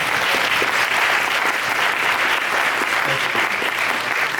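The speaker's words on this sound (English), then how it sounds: "So let's give him another round of applause" Audience applause at the Oak Park Black Film Festival, a celebration of African American stories, holding as a dense, steady wash of many hands clapping close and loud throughout.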